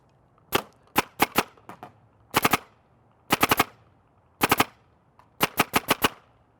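Empire Apex 2 paintball marker firing in quick bursts of two to five sharp pops, repeated several times across a paintball field, close and loud with no talking.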